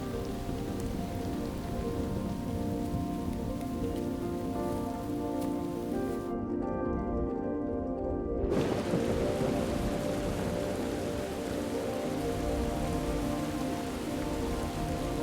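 Steady, heavy rain falls on the Serengeti during the wet season, a dense continuous hiss of drops on surfaces that stays loud and even throughout, with no voices.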